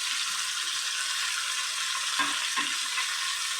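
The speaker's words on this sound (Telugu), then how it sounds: "నెమ్మదిగా లో ఫ్లేమ్లోనే వేగనిద్దాం అన్నమాట" Chopped tomatoes fry slowly in a pan over a low flame for a country-chicken egg curry, a steady broad sizzle with two brief stirring scrapes, close and alone.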